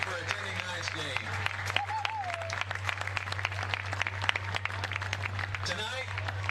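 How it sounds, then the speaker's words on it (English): A stadium crowd at a high school football game claps in steady applause honoring Kingston football alumni, with a voice on the public address heard over it. "please give a warm round of applause to all of our Kingston football alumni"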